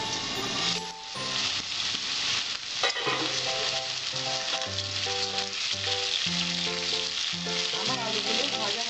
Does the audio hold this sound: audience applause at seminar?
no